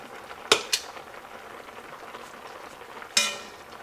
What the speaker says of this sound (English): I'll take our potatoes and I'll just place them around